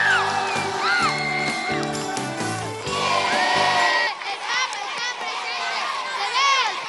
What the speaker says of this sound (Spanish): Fuerte el aplauso para el Papa Francisco.